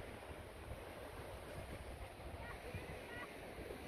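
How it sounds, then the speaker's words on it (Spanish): Pacific Ocean surf rolling onto a beach at La Puntilla on the El Salvador coast, a steady broadband wash of breaking waves that stays fairly even and moderately loud throughout. "Este es el mar Pacífico."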